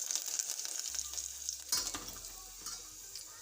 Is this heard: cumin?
yes